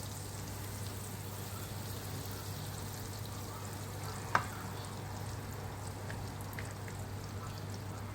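Shrimp fry in butter and oil in a pan, giving a steady, even sizzle with a low constant hum beneath it and a single faint click partway through, with no talking.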